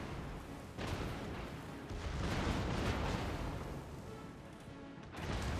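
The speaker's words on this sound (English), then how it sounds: "Nice broadside, Montana." Battleship broadside salvo in World of Warships, with the Montana engaged against the Richelieu: a sustained, rumbling roar of heavy gunfire and explosions at moderate loudness, swelling and fading over several seconds.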